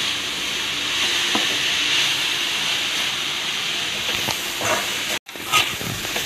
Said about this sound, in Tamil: நல்லா ஃப்ரை பண்ணிட்டு